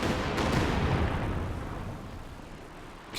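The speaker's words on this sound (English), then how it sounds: "Katyusha barrage largely off target." In Company of Heroes 2, a Katyusha rocket barrage lands as a dense, loud rumble of overlapping explosions that peaks early and slowly fades over about three seconds.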